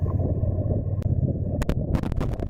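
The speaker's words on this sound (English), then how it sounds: "Really windy today" Wind buffeting an outdoor camera microphone, low rumbling gusts throughout with a few sharp crackling pops toward the end.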